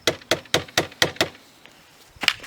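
A mallet strikes a dryer vent fitting with six sharp, evenly spaced knocks, then a pause and a final pair of quick hits, close and loud.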